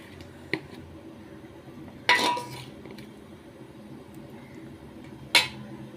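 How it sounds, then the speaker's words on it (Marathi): A frying pan set down on a kitchen stove gives a sharp metallic clatter midway, with a lighter clink near the start and another clank near the end, close and otherwise quiet. "फ्राय पॅन ठेवलेला आहे"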